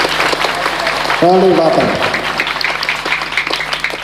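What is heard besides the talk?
audience applause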